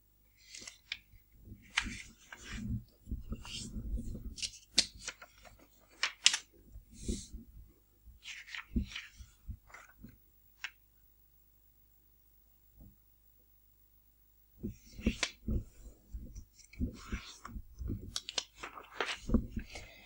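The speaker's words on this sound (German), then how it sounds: "Falte horizontale und vertikale Faltlinie ein." A square 20 by 20 cm sheet of paper is creased into horizontal and vertical fold lines for an origami Easter bunny. Close crisp crinkles and sharp creasing snaps come in bursts, broken by a quiet pause midway.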